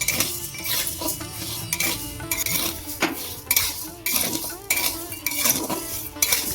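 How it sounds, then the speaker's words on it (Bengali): Gobindobhog rice and nuts frying and being stirred in a pan, with a spoon or spatula repeatedly scraping and clinking against the metal in an irregular rhythm over a faint sizzle, close and fairly loud. "ভালো করে আমি গোবিন্দভোগ চালগুলো ভেজে নিয়েছি"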